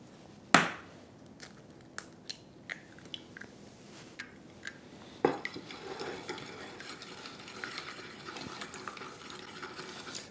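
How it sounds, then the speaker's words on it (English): A spiral whisk beats two large eggs in a pie plate: one sharp clack, then a run of light taps against the dish, followed by steady, quiet stirring and sloshing. "in a second pie plate, I'm going to beat 2 large eggs"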